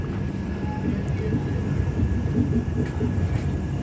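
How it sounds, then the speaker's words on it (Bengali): A train rumbles steadily along the tracks from inside a carriage of the Gitanjali Express as it crosses a diamond crossing, with a low continuous roar and faint rhythmic clatter, and a voice speaks briefly. "এই ডায়মন্ড ক্রসিং করে ট্রেনটা হাওড়ার দিকে এবার মুভ করছে।"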